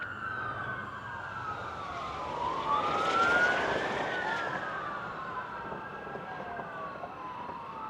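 A fire truck siren wails in rising and falling sweeps, swelling as it draws nearer midway through and then easing off as it moves away, heard from a distance over faint road noise.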